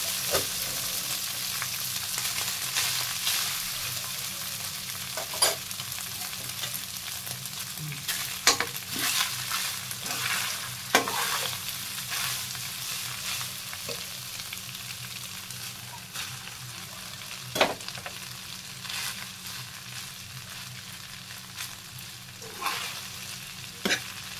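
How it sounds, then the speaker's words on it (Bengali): Cooked rice being stirred into mixed vegetables frying in a pan, a continuous soft sizzle with repeated scraping and clacking strokes of the spatula against the pan at an irregular pace, close and clear, with no talk. "ভাতটাকে আমি এর মধ্যে আস্তে আস্তে করে দিয়ে দেবো আর নাড়তে থাকবো"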